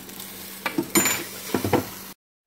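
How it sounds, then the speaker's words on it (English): A fork stirs sliced onions and peppers in a hot skillet for fajitas, giving a short scrape and clatter of vegetables over a soft sizzle, close up, before cutting to silence. "Just going to take our fork, and we're just going to stir this a bit"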